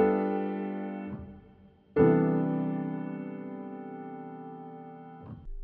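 Two sustained jazz piano chords in root position ring out one after another, each struck firmly and left to decay slowly, with nothing else playing.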